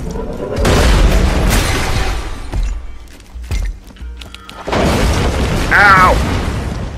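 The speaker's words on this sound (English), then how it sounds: "Explosions of things" Several booming explosions burst from a Borderlands 2 game, loud broadband blasts spread across the stretch with gunfire-like pops, a few short cracks in the middle and a big burst near the end, while someone talks over them.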